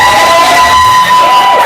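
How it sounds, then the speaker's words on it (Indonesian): Classroom of students clapping and cheering, a short loud burst of crowd noise with mixed voices over the clapping. "Tepuk tangan dulu."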